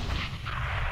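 A grenade explodes in a CS:GO match on Mirage, a loud, dense boom filling the whole moment with no talk over it.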